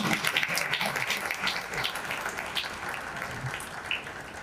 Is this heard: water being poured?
no